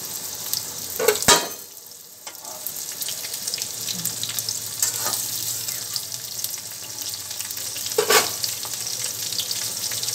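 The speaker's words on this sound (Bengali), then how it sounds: "একটু জিরে ফোড়ন দিয়ে দিলাম" Cumin seeds tempering in hot oil give a steady, bright sizzle and crackle, broken by a few sharp utensil knocks and stirring scrapes.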